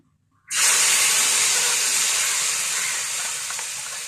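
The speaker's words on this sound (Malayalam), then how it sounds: "ഇതെല്ലാം മൂത്ത് ഇനി തീ ഓഫ് ചെയ്ത് നമുക്ക് ഇതിലേക്ക് ഒഴിക്കാം." Hot tempering of fried onions, dried red chillies and curry leaves poured into a pot of sambar, bursting into a loud sudden sizzle after a brief silence, then a sustained hiss that slowly eases, with no talk.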